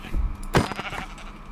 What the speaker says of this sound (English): I'm gonna get some sheep.